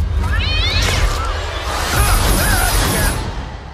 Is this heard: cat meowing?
yes